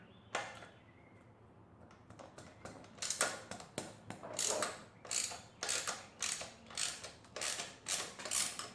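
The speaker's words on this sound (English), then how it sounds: "All right, guys, I'm on this last bolt here." A ratchet clicks in repeated bursts of rapid pawl ticks while loosening the last bolt on a Honda Grom, close and fairly quiet, with no talking.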